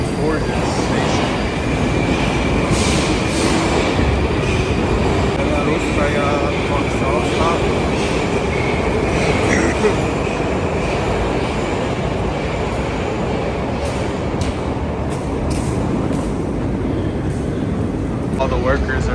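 A Moscow metro train fills a station with a loud, steady rumble and hiss that holds evenly throughout, with a faint high whine riding above the roar.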